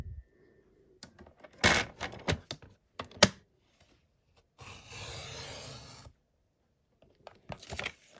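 Card paper being cut for a handmade tee pee card: scattered close taps and crisp snips, then a sustained rasping slice lasting over a second, followed by quiet and a few more small handling sounds.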